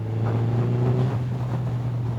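A Suzuki Hayabusa motorcycle cruises in 5th gear at low RPM. Its engine gives a steady, smooth drone under wind rush, with no gear changes or revving, heard close and fairly loud.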